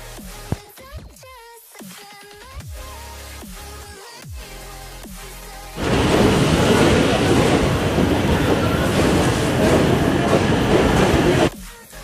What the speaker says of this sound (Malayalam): അങ്ങനെ ട്രെയിന് കോഴിക്കോട് നിന്ന് എടുത്ത്.